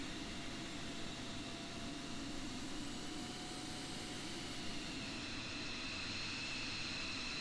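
A simulated Aerosoft F-16 jet in FSX taxis toward the runway, its engine a steady, even whine and rush with a faint high tone, continuous and unchanging throughout.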